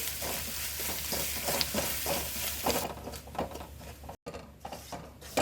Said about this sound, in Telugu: ఒక టేబుల్ స్పూన్ వరకు పచ్చి కొబ్బరిని వేసేసి దీన్ని కూడా మరి కాసేపు ఫ్రై చేసేయండి